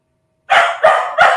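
A dog barks three times in quick succession, loud and close, in a house; each sharp bark is clearly separated and comes after a moment of silence, with no other voices.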